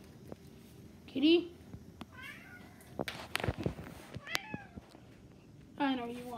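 A cat meows a few times nearby, short separate cries spaced apart, with quiet handling noises and soft clatter between them.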